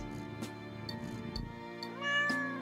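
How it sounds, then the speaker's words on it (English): A cat lets out a loud, drawn-out meow close by, preceded by soft purring and small rustling sounds. "It was a loud meow."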